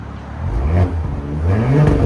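A Porsche Cayenne S with a 2.9-litre twin-turbo V6 and straight-pipe or cat-back exhaust revs in two short rising bursts, loud and close, with a deep throaty drone and no voices.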